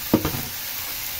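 Vegetables for pakbet dropped into a small frying pan, giving a quick burst of sizzling and stirring that fades to a faint steady hiss.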